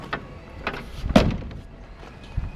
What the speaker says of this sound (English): Typical Defender door.